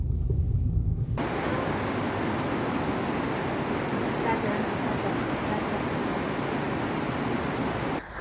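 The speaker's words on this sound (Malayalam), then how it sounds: "ഇത് ഒരു വെള്ളച്ചാട്ടമാണ് കേട്ടോ" A waterfall roars as a loud, dense, unbroken rush of water, close and constant from start to finish, with no speech.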